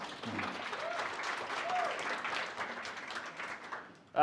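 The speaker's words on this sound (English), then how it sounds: "Let's give a big round of applause for the guys." Applause from a conference audience after a vertical rescue presentation introduction, a dense clapping wash that swells and then tapers, with a few voices calling out beneath it and a sharp sound at the very end.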